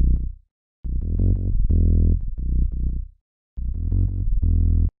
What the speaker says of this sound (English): But when you have it on sinoid fold, yeah, it just kind of brings out the grit that much more.